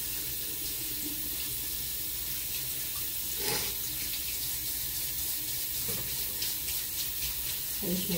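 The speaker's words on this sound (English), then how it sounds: "I'm washing my gloves again." Dye-stained gloves washed under a running kitchen tap, with steady close water flow and splashing throughout, faint movement sounds over it, in a home setting during a hair-dyeing session.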